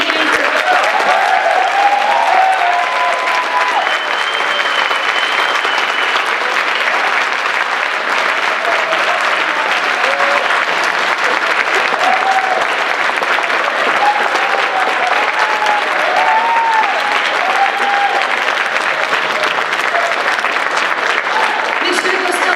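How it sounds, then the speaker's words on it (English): A large crowd at a Pensacon convention panel with Austin St John applauds loudly and continuously for over twenty seconds, with a sustained wash of clapping and scattered cheers and voices mixed in. "we want to give you an awesome round of applause for"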